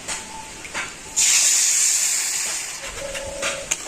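Sugar and water syrup in a pan lets out a sudden loud steamy hiss a little over a second in, slowly fading, with faint clicks and clatter around it.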